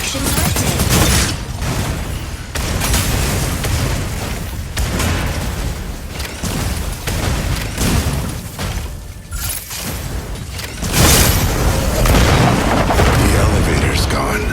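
Energy autocannon fire and explosions from the mech combat game Mecha BREAK, a dense, nearly continuous barrage of booms and blasts with a louder surge of impacts toward the end.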